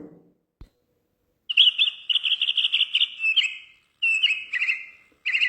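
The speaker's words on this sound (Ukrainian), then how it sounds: "це горобчики" Several house sparrows chirp in quick, repeated bursts, bright and fairly close, with brief pauses between the runs of chirps.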